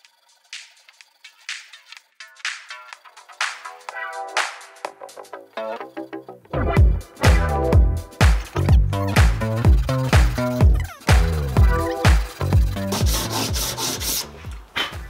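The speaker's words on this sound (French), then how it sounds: "Je descends tout doucement cette mortaise avec ma scie." Steady back-and-forth rasping of a hand saw cutting down a mortise in a wooden chair back leg, faint at first, then loud, rhythmic strokes close by.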